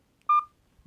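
A WatchU kids smartwatch gives a short electronic dialing tone while placing a call, one brief clear two-part beep near the mic in an otherwise quiet room.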